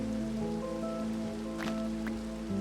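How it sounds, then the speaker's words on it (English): Rain falls steadily in a modded Minecraft world, a soft even patter with a few brighter drop ticks over a low steady background hum, with no talking. "Rain put it out, didn't it?"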